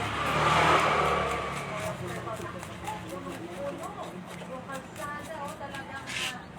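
Four-wheeled vehicles passing along a road near Manila Bay, a car swelling loudly near the start and then fading into a lighter traffic hum, with a voice talking over it.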